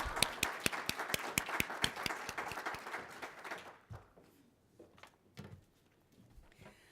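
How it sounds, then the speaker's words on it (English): Audience applause at a convention center expansion workshop, a burst of brisk clapping from a modest crowd that thins out into a few scattered claps and fades. "please feel free, round of applause"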